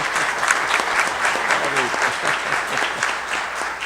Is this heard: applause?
yes